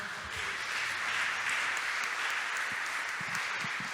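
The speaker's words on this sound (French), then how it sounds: "On acclame le Seigneur." A church congregation applauding during a Sunday service, dense steady clapping from many hands filling the room for the whole stretch, with no voices over it.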